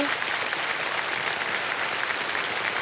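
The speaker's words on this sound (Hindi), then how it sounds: "एक बार फिर जोरदार तालियों के साथ इनका स्वागत करते हैं।" Studio audience on a TV quiz show bursts into steady, dense applause welcoming a young contestant to the hot seat, loud and sustained throughout with no voices over it.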